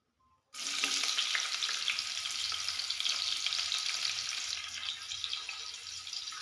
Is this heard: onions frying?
yes